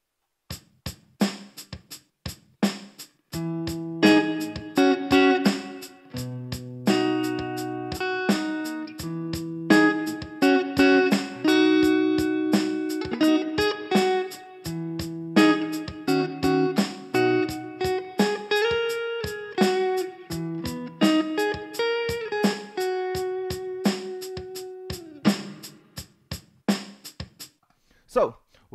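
Electric guitar played through a small Nux Mighty Lite amp on overdrive alongside its built-in drum machine: a driven riff with sustained chords over a steady programmed beat, loud and close, with only drum hits at the start and end.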